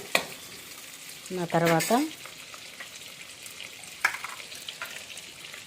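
Cashews frying in a pan with a burst of sizzling and stirring in the middle, near and moderately loud, with a few scraping clicks and a brief spoken word, for a palak paneer curry.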